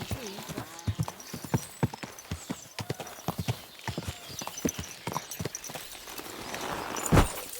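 A horse in the video game Kingdom Come Deliverance 2 walks with crisp, evenly spaced clip-clopping hooves, close by, ending in a short whinny.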